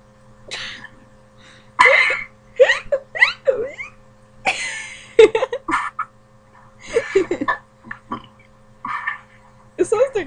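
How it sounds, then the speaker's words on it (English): Repeated short hiccup-like vocal bursts from a person, irregular and close, with strained gasps and voiced catches spread across the stretch over a steady low hum. "You got the hiccups."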